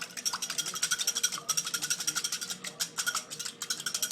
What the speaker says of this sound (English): take a whisk. You can use a fork. It doesn't really matter. And you're just going to whisk this guy up really quick.